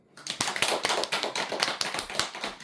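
An audience claps at a Buddhist temple's Sunday dharma talk, a dense, close, steady patter of many hands continuing for a few seconds.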